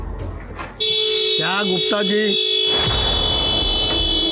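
A car horn blares in a long, sustained tone while someone speaks briefly over it, with street noise underneath.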